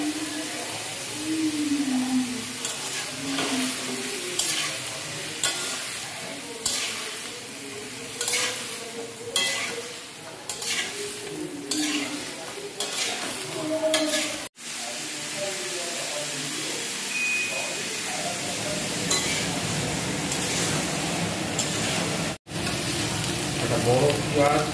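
Potatoes frying in oil with five-spice in a home kitchen, a continuous close sizzle and hiss with stirring scrapes, and a voice speaking briefly over the cooking early on.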